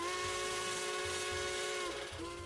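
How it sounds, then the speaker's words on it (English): Pennsylvania Railroad steam whistle in a train video game, a loud, steady chime-like blast with layered harmonic tones, briefly wavering near the end, over a rhythmic low chuffing rumble. "That's a Pennsylvania Railroad whistle if you hit the whistle button real quick."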